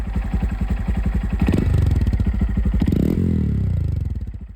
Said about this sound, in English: I like to warm the engine up first